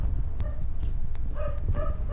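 A dog in the horror game Ang Ospital gives a few short, whiny yips and barks over a low rumbling background, spaced unevenly across a couple of seconds.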